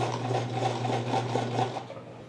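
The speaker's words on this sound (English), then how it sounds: "Just put the presser foot back down and continue as you are as it feeds out the back." A sewing machine stitches fabric at a steady pace, its needle clattering in a fast even rhythm over a constant motor hum, close and moderately quiet, slowing slightly at the end.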